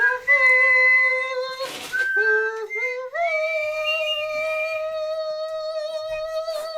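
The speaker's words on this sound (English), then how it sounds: "I'll say I was a little pitchy on the whistle" A person whistles a tune alone, clear sustained notes with pitch slides and a few breathy pauses, close and fairly loud with no talking.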